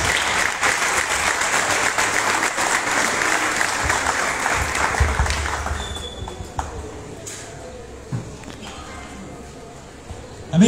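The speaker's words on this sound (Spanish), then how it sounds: "Fuerte los aplausos para recibirle." A crowd at an outdoor intercultural health fair in a park claps loudly and steadily to welcome a speaker. The applause thins and fades after about six seconds, leaving a few scattered claps and quiet ambience.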